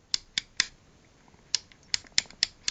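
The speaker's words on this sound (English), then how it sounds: "So you can actually count the clicks of these switches." Frequency switches on a PRC320 army radio click round, a run of crisp, close mechanical detents: three quick clicks, a pause, then five more in steady succession.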